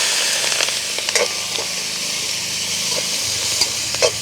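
Onions and green chillies sautéing with mustard seeds in a pan, a continuous close sizzle with occasional stirring clicks and scrapes.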